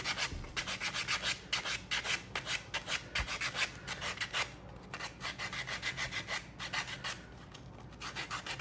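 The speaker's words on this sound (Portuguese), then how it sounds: "Eu vou lixar o outro, para poder vocês verem os dois, como é que ficam." Sandpaper is worked along the edges of a small handmade shoe in rapid, rhythmic back-and-forth scraping strokes, close and steady throughout with brief pauses and no talk.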